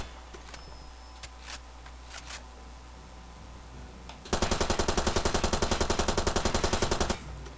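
Rifle in Far Cry 2 emptying a full magazine in one continuous burst of rapid, evenly spaced loud shots lasting about three seconds, preceded by quieter ambient clicks and scattered faint sounds.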